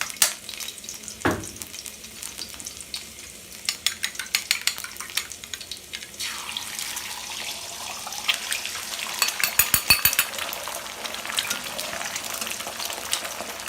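Eggs and garlic fry in a hot pan with a steady, close crackling sizzle, broken by a few stirring scrapes and light clinks of a utensil against the pan.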